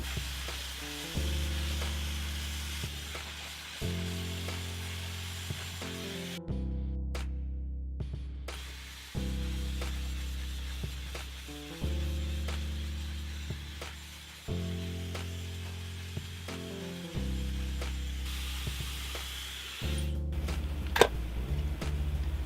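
A hair dryer blows on damaged, broken hair with a steady, close, loud whoosh that shifts in pitch every few seconds as the airflow changes, with a couple of brief dips.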